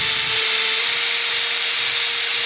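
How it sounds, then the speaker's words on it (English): A power drill whines steadily at high pitch while boring a small pilot hole into a kayak hull, a continuous close, loud drilling tone with no talking. "we're gonna drill a hole right there"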